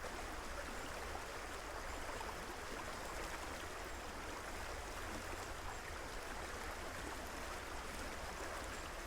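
Steady flowing water of the Sarine river, a continuous broadband rush without pauses, even and moderately distant, with no voices.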